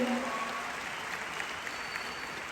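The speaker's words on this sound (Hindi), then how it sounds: "एक बार जोरदार तालियां वेस्टीज मैनेजमेंट के लिए।" Steady, dense applause fills the room at an award function for a direct selling company's management, a continuous crowd of clapping hands at even loudness throughout.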